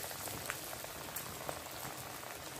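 Cabbage tikki patties frying in mustard oil in a kadai over a low flame, giving a steady, dense crackle and bubbling hiss like light rain, with a few sharper pops rising above the even sizzle.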